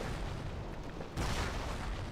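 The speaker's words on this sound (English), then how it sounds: "Warfman or a Hotchkiss Barrage raining on in." Rocket barrage from Hotchkiss half-tracks in the World War II strategy game Company of Heroes, a steady rumbling wash of explosions that swells louder partway through and keeps pounding without clear gaps.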